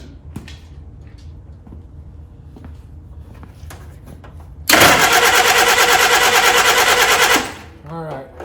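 A 1947 Willys engine cranks loudly for about three seconds after a stretch of quiet clanking, then stops abruptly, followed by a voice.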